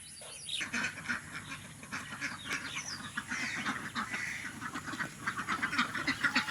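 A flock of ducks on an integrated farm quack repeatedly in an overlapping, busy chorus, fairly close, with a brief voice at the start.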